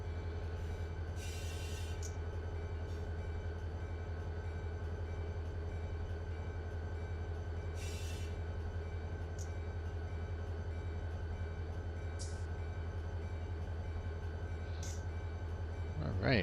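Freight trains and diesel locomotives in the Run8 train simulator game around Rice Yard give off a constant low engine drone and rolling hum, with a few brief hissing bursts and light squeals over the steady rumble.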